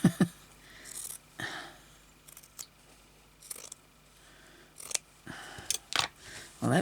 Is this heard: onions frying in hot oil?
no